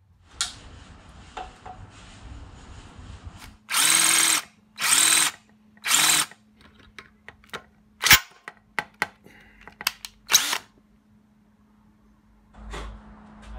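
Drill boring into a stripped Torx bolt in a carbon fibre bike tube: three loud bursts of whirring followed by short scattered clicks and a few brief spins, with quiet pauses between.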